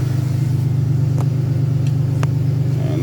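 A 2005 Chevrolet Impala engine idles steadily while warming up in a garage, a close, even low hum with faint clicks and ticks on top and no talk.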